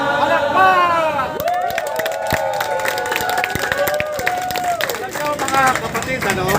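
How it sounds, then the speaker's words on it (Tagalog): Crowd applause and cheering fill the clip, loud and continuous, with a voice or singing carried over the clapping. "Palakpak!"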